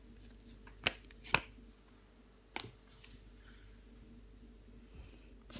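Tarot cards being turned over and laid out on a table, a few sharp, isolated flicks and slaps spread across a quiet room with faint background hum.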